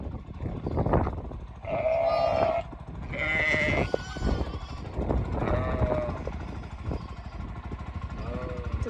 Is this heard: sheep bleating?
yes